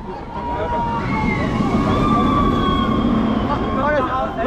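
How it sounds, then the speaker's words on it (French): A wailing alarm siren sounds at the Parc Astérix amusement park, its sweeping tones rising over a steady crowd wash while people talk nearby. "Oh l'alarme! La sirène"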